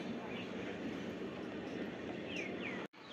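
A Kolkata Circular Rail local train passes Patipukur platform, a loud, steady rumble and rattle of coaches close by with faint squeals, cut off abruptly near the end.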